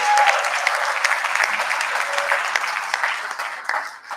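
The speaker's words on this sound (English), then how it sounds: "I think that deserves a round of applause" Conference audience at TiECon Delhi-NCR applauding steadily for about four seconds, a dense even patter of many hands that thins slightly toward the end.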